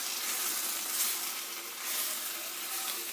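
Pumpkin halwa sizzling in a pan over medium heat while being stirred, a steady bright hiss with no voices.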